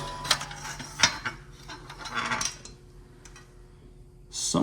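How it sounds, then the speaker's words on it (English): A hand rivet squeezer sets a rivet in a car vent window frame, giving a few close metallic clicks and ratcheting snaps, then a quieter pause and a final squeeze. "I take the gun, or I should say the squeezer, and hold it upside down like this and squeeze it in."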